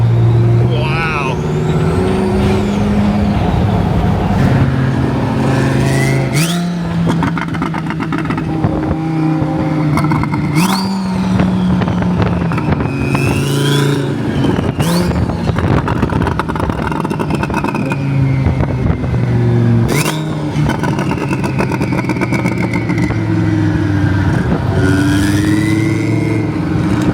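A twin-turbo supercar engine revs repeatedly, rising and dropping in pitch through gear changes, loud and close, with occasional sharp bangs.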